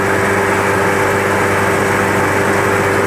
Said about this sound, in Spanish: Escuchen ese sonido del escape